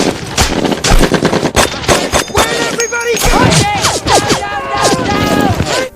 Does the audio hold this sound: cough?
no